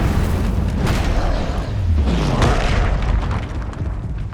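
A Confringo blasting spell explodes in Hogwarts Legacy combat, a loud, dense booming burst with a rumbling low roar that keeps rolling for several seconds among other spell effects.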